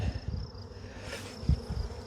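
Honey bees hum in a steady, close drone during a hive inspection, with a few soft knocks and handling thumps of the frames beneath the buzzing.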